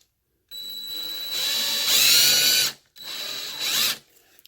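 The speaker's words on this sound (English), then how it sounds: "I'm going to screw a little hole in the back." A power drill screws a small hole into the back of an iron and glass wall sconce, whirring in two bursts that rise in pitch under load, close and loud, with a short pause between them.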